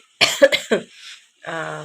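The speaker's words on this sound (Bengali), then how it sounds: "অল্প অল্প কাশি আছে।" A close, sharp cough in a short burst of several rapid hacks, followed by a brief strained throat sound.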